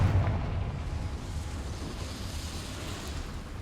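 A Confringo fire spell bursting in the game Hogwarts Legacy: a low booming explosion at the start that fades into a rumbling tail lasting several seconds, with no talk over it.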